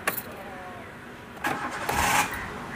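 Hyundai i10 with an electric power steering fault being started: a brief crank and whir, then the engine catches near the end, close and fairly quiet.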